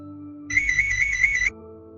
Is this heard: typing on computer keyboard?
no